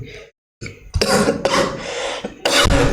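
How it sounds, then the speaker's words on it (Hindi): A few harsh, close coughs in quick succession, rough and throaty, with a brief pause before the bursts. "सॉरी फ्रेंड्स थोड़ा खांसी हो गया है"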